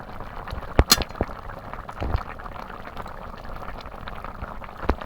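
Vegetable curry broth with river prawns and potatoes boils in a pot, a steady close bubbling with a few sharp clinks of a utensil early on and no talking.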